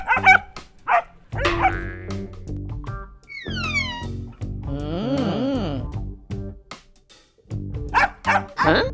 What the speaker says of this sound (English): We may start hearing barking sounds from everywhere.